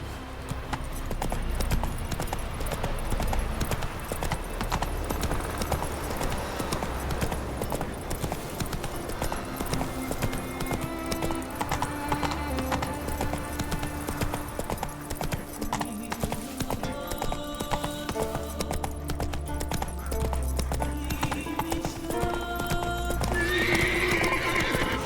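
A horse gallops in The Witcher 3: Wild Hunt with steady clip-clop hoofbeats and a neigh or whinny, heard throughout beneath game ambience and brief spoken lines.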